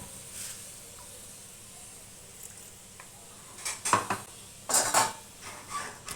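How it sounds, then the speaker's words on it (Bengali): Vegetable kakrol (spiny gourd) curry with peanut paste and chilli being stirred in a pan: faint background hiss, then several clanking scrapes of a metal spoon against the pan near the end, with no speech. "একটু নেড়ে চেড়ে দেবো"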